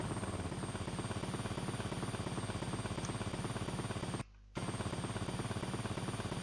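A helicopter in the video game GTA Fall of Vice City drones with a steady rapid rotor chop and engine hum, cutting out briefly once before resuming.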